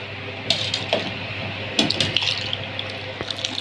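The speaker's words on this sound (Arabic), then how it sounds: "اهو معايا الحليب اهو هنزل بيه على الرز" Milk is poured from a mug onto washed Egyptian rice for oven-baked rice pudding, giving a close liquid splashing and trickling sound in short bursts, with some clinks and kitchen handling noise.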